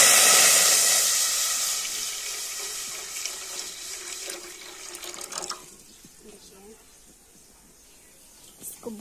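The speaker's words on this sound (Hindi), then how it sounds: "डाल रहा है पानी" Water pours into a pot of maize set to boil on a home stove, a loud rushing stream at first that thins and fades over several seconds, with faint clinks and quiet talk nearby.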